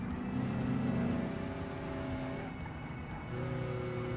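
Truck engine with supercharger heard from the interior view in the video game BeamNG, a steady droning engine with faint tonal whine, revving and shifting pitch through two gear changes.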